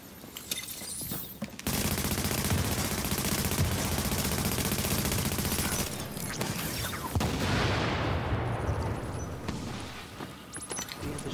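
Shotgun and rapid automatic fire in Tomato Team: Rogue Chronicles roar almost without a break for several seconds, loud and dense, then thin into scattered shots and rumble, with no talk over it.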